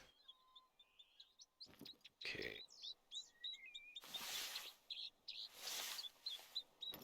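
Bird chirps from the video game The Hunter: Call of the Wild, a run of short, high tweets and calls scattered through the scene, some faint and some close, broken by louder bursts of other game noise.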